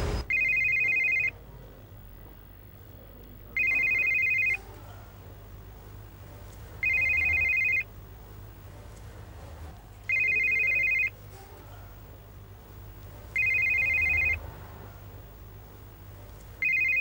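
A telephone rings five times in a row in a TV drama scene, each loud electronic bell burst lasting about a second with steady pauses between, with no talk over it.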